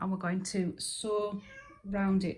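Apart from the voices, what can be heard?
cat meowing for food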